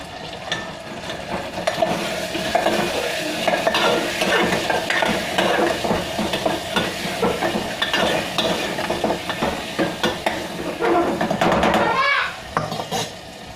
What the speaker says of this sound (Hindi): हवे आपणे आने बराबर मिक्स करवानी चटनी ने।